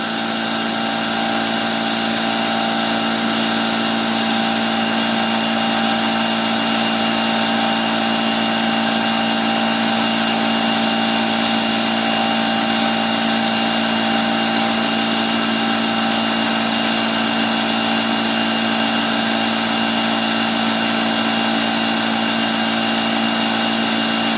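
D-bit grinder machining a metal part, a loud steady mechanical whine with layered tonal hum running continuously and unchanging for the whole stretch.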